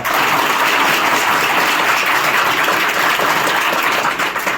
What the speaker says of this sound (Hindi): तो इसके लिए आप अपने गुरुजी लोगों के लिए एक बार ताली बजा दो।